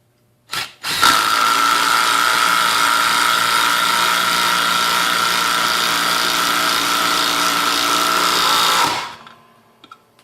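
A Ryobi 18-volt impact driver with a socket drives a 2.5-inch lag screw, hammering out one loud, steady rattling run of about eight seconds before it stops abruptly.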